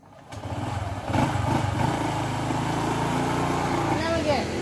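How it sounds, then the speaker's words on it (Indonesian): A new motorcycle's engine starts and runs steadily close by, its buzzing idle hum holding for several seconds with a slight rise in revs, while people talk over it. "Ini motor. Coba motor baru ah."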